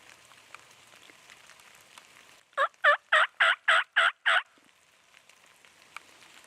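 A wild turkey jake gobbles once during a spring turkey hunt: a loud, close burst of about seven rapid, evenly spaced pulses, set between quiet outdoor stretches with faint patter.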